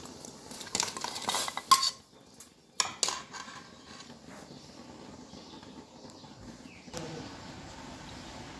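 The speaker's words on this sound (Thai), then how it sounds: "น้ำซุปเราเดือดแล้วนะครับแล้วก็ เอาหางมังกรหรือหางหมูเราลงไปเลยนะครับ" Pork tail dropped into a pot of boiling soup for a spicy Thai tom saep, with splashing and clinking pot sounds early on, then a steady low bubbling simmer that continues to the end.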